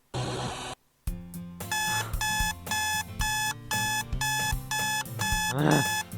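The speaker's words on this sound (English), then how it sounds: "I smack the alarm clock, causing it to stop." An alarm clock rings out in a bedroom in the Doki Doki Fiendish game, a short first burst and then a loud run of repeated electronic beeps in a steady pulsing rhythm.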